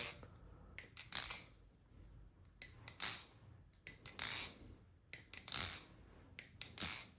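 Asgard Zangetsu sword blade struck repeatedly, each hit giving a bright, high-pitched clink and brief ring, spaced regular strikes in a quiet room.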